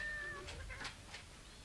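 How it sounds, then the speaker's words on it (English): Several cats mewing and caterwauling outdoors on a city street, overlapping meows rising and falling across a steady low background hum, fairly close and with no voices. "What in goodness name are all those cats mewing about?"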